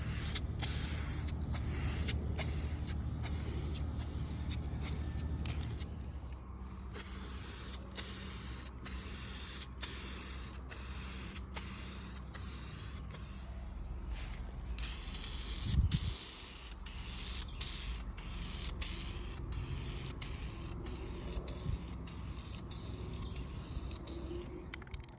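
Aerosol spray paint hissing steadily as a dust coat goes onto a bare, unprimed motorcycle tank on a budget bobber build, in short repeated bursts with a brief knock midway.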